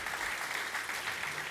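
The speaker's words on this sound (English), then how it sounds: "I think he deserves a round of applause." Steady audience applause at an architecture memorial lecture, a dense even patter of many hands clapping throughout, moderately loud and unbroken, with no voices over it.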